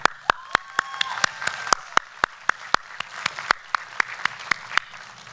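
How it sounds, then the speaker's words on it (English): Graduates, families and friends applaud at a community college commencement ceremony, a steady run of crowd clapping with a few sharp, close hand claps punctuating it throughout, no talk over it. "A big round of applause to all of you."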